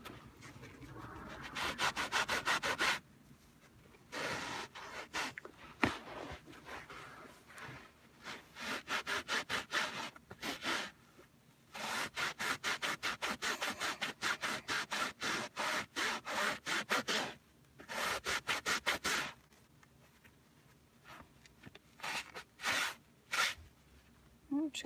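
Scrubber brush rubbing hard at a stain on car upholstery, in repeated bursts of rapid back-and-forth strokes with short pauses, close and fairly loud.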